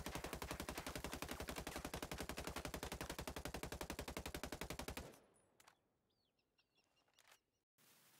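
Rapid automatic fire from an AUG assault rifle in the video game Ghost Recon Breakpoint rattles loud and continuous for about five seconds, then stops, leaving faint ambient birdsong and a few small clicks.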